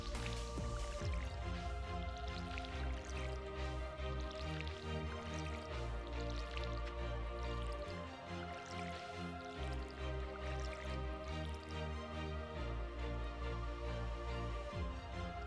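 Crops being watered in Stardew Valley make repeated soft dripping splashes, layered over continuous background game music at a moderate, even level.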